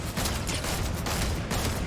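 SMG gunfire in Fortnite, a loud, rapid rattle of shots in quick bursts with brief gaps between them, close and dense throughout.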